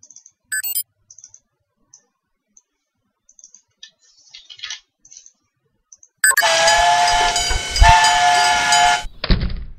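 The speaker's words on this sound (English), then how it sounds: "Yep, Astro Train has left the station." A train sound effect with a whistle blasts in loudly after scattered soft clicks and keyboard-like taps, rumbling and whistling for about three seconds before cutting off.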